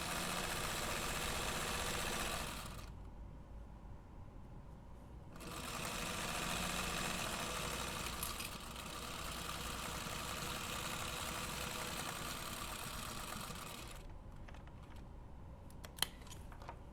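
A sewing machine stitches a bag pocket in several steady runs of quiet, even whirring, broken by brief pauses and a small click near the end.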